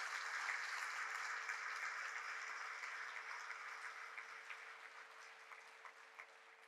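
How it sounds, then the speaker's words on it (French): Steady applause from an audience at a school graduation ceremony greets a school orchestra, a dense even patter of many hands heard at a distance, fading slightly toward the end with no talk over it. "on peut les applaudir"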